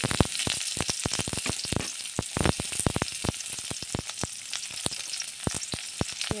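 Chopped onions hitting hot oil in a pan for a Bengali puti fish curry, with steady close sizzling and a run of sharp crackles and pops, with no voices.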